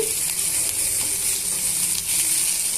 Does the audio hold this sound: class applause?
no